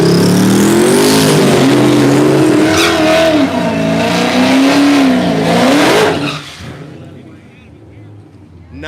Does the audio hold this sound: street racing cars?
yes